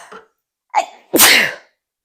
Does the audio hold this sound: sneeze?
yes